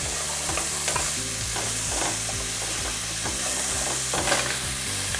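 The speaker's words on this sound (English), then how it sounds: "So we're just gonna let our onions saute for about 2 minutes or so" Onions sauté in a pan among browned sausage bits, giving a steady, close sizzle and hiss throughout, with a soft tonal bed running underneath.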